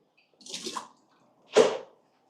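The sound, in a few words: water poured away from Xbloom coffee machine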